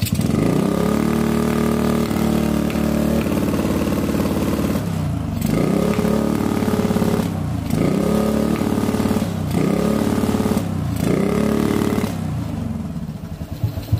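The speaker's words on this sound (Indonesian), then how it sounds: "tadi sudah saya coba gas ya, kayak tidak plong ya teman-teman apabila digas motor ini" A Honda Sonic motorcycle engine with weak power revs repeatedly in a steady rhythm, each throttle blip rising and falling over a continuous idle, loud and close.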